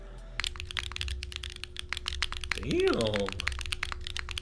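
Keys clacking on a Mode SixtyFive mechanical keyboard with a carbon fiber plate, no foam and soft lattice block mounting, a close, rapid run of crisp keystrokes, while someone talks briefly partway through.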